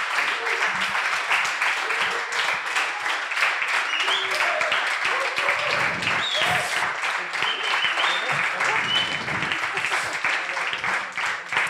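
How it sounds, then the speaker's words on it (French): An audience at a coding bootcamp demo day in Bordeaux gives sustained, even applause to the teaching assistants and teachers, a long unbroken patter of many hands with a few voices and cheers mixed in. "je pense qu'ils peuvent être applaudis pour tout le travail qu'ils font en accompagnant chaque élève."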